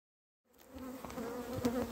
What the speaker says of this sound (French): vous voyez il y a les abeilles qui vont arriver